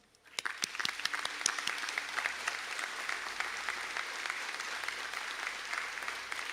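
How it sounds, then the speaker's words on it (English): Applause at a college graduation conferring ceremony in Sligo breaks out suddenly after a quiet moment, with a few sharp early claps swelling into a steady, sustained round from a seated crowd, heard from some distance in a large hall. "stand for a round of applause"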